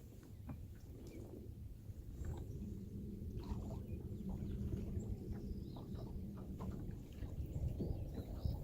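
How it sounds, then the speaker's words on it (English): A boat engine drones steadily at low pitch, growing slightly louder over several seconds, with faint outdoor ambience on top. "There's a boat coming up in here right now"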